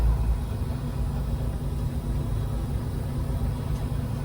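Cars idle in a long traffic jam on the Jambi–Palembang road near Betung market, a steady low engine rumble and road drone filling the scene without talk.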